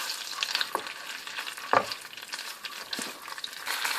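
Melted butter and ketchup cooking together in a pan while being stirred for a white sauce, a light sizzle broken by a few distinct scrapes of the spoon, close and moderately loud.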